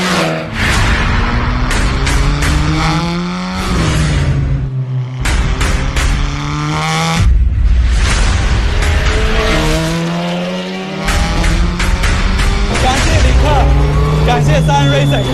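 A Lynk & Co 03 TCR championship race car with a six-speed sequential gearbox is driven hard on track, its engine loud and close, revving up through gears with sharp shifts and tire squeal, while someone talks over it.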